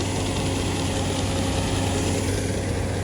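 A Swaraj tractor engine runs steadily nearby during wheat field work, giving a continuous low, throbbing rumble with a constant idle-like hum and no voices.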